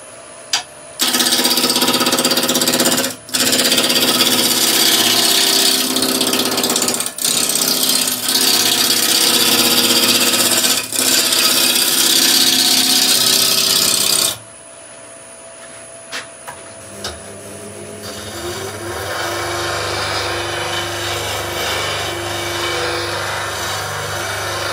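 Wood lathe turning a blank whose corners have been cut off, a loud, steady broadband whir and scraping of tool on wood that runs nearly fifteen seconds with brief pauses, then drops to a quieter low hum.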